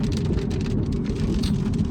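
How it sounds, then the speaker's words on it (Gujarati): Dense, steady rainfall pours down without a break, a heavy continuous wash of noise with no voices. "વરસાદ ચાલુ છે ફૂલ"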